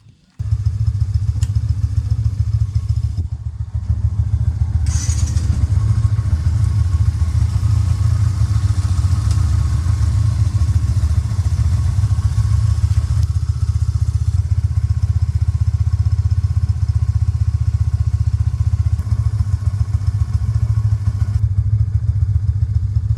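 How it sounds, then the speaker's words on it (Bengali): A Yamaha motorcycle engine, freshly serviced, settles into a steady low idle after a brief start at the outset, running loud and close with a continuous even throb and occasional light clatter, with no talking. "এখন দেখি বাইকটা একটু স্টার্ট করব, স্টার্ট করে দেখি কি অবস্থা হয়"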